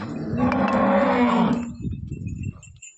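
A Holstein Friesian cow lets out a long, loud moo close by, the low call lasting about a second and a half before trailing off into quieter rumbling.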